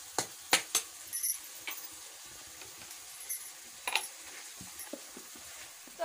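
Tomato masala cooking in a kadhai, stirred with a spoon that clinks and scrapes against the metal at irregular moments over a soft background sizzle.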